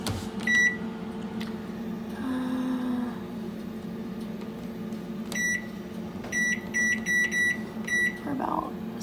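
A small oven hums steadily while toasting a ham, egg and cheese croissant sandwich, a low continuous drone with a few sharp electronic beeps near the start and a cluster toward the end, and faint talk in the background.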